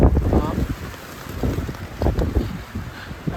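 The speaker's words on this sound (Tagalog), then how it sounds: "Nalakas ng hangin." Strong gusting wind buffets the microphone aboard a small fishing boat at sea in the rain, roaring in rough surges with faint water sounds beneath.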